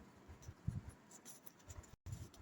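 A pen scratches out a math equation for a class 10 algebra problem. The close, faint strokes come in short irregular bursts, broken by a brief silent gap.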